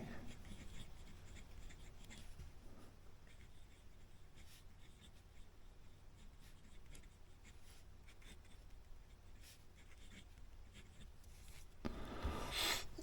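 A fountain pen with a Jinhao nib scratches across paper in coffee-brown ink, a faint, steady dry scraping with short strokes, close and quiet, with a louder rustle at the end.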